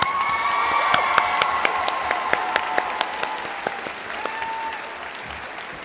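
A graduation audience at Green Bay East High School applauds the valedictorian, dense steady clapping filling the hall with a few whoops and high cheers rising over it.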